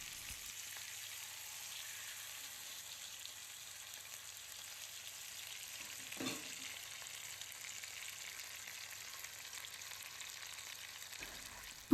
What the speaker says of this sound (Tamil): மூடி போட்டு ஒரு 5 மினிட்ஸ் லோ ஃப்ளேம்லேயே ஃப்ரை பண்ணி எடுத்துக்கோங்க